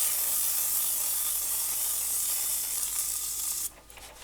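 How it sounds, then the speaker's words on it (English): Olive oil sprays steadily from a spray bottle as a continuous, fairly close hiss that cuts off abruptly near the end. "I'm just going to spray some olive oil on there"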